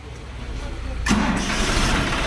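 A car engine cranks and catches at about one second, then settles into a steady, close, loud idle, with someone talking over it.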